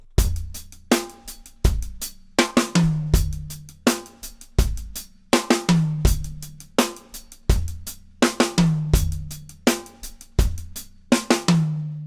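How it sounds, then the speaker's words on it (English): A drum kit plays a groove with a sixteenth-note hi-hat pattern that leads into a fill, with punchy kick and snare hits repeating in a tight, loud, even rhythm. It is played close up with no talking. "Let me play you the fill with the hi-hat pattern before that"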